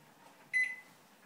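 A microwave oven gives a single short electronic beep, clear and fairly close, ringing briefly before fading against a quiet room.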